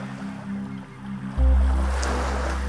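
Waves wash onto the shore at the Beaches in Toronto, a steady close rush of surf that swells louder partway through, with a low rumble and faint background sounds but no talking.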